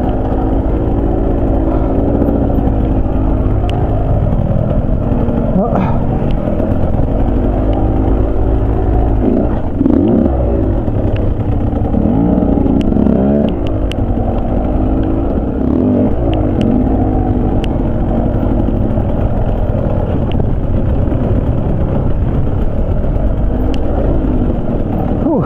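A TE150 dirt bike engine hums and drones steadily while riding a trail, a continuous close mechanical roar with slight rises and clatter throughout.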